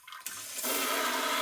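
A BioBidet SIMPLET bidet attachment on a toilet sprays water: a short soft hiss swells into a loud, steady, broadband rush that continues to the end, with no voices.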